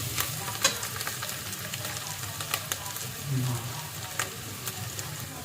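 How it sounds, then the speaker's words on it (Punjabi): Potatoes and peas roasting lightly in a pan over a gas flame: a soft, continuous sizzle with occasional sharp ticks and clicks, fairly quiet throughout. "ਆਪਾਂ ਇਹਨਾਂ ਨੂੰ ਹਲਕਾ ਹਲਕਾ ਭੁੰਨ ਲਿਆ ਏ"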